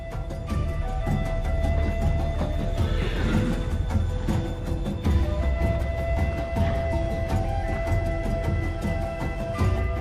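Horses whinny and hooves clop amid a busy outdoor soundscape among Altai nomads in Russia, steady and moderately loud with no talking.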